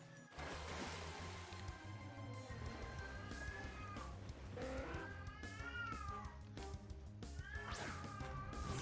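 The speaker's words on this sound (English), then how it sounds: "And a very upset cat." An upset cat meows repeatedly in long, wavering, complaining cries, close and loud, over a dense, steady layer of background sound.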